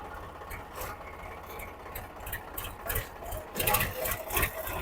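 A low tractor engine putters steadily with a rapid rhythmic chug as the tractor moves slowly, joined by intermittent clatter and rattling bursts that grow louder toward the end.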